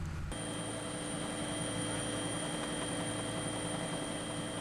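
A helicopter drones steadily over tuna fishing grounds in the open Pacific, a faint, continuous whine and rotor hum with no voices.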